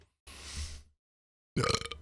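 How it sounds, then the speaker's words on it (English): A person burps once, a short breathy belch up close in a quiet room, followed after a pause by a brief burst of voice. "So that burp was a sign that I feel like shit."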